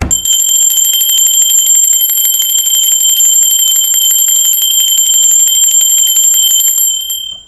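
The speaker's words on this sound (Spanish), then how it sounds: "va campana" A bright, high bell rings steadily and loudly without pause, its sustained metallic tones shimmering for several seconds before fading out at the end.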